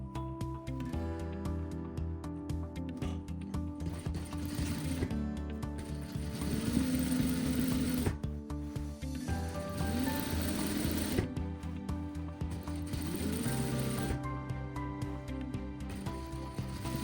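A sewing machine stitches the center back seam of a pair of pants twice, running in several sustained bursts with a rhythmic mechanical whir and brief pauses between passes, close and without speech.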